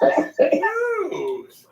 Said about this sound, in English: That's a bong hit cough.